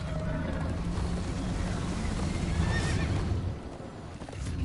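Horse neighing loudly while galloping hooves pound in a Minecraft Story Mode chase, a whinny rising over a continuous rumble of hoofbeats that briefly drops off near the end.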